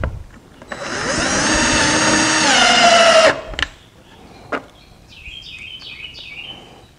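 Power drill driving screws through a wooden dough bowl blank into a work table: one sustained, loud whine of about two and a half seconds that dips in pitch as it bites, then a few knocks and quiet high chirps.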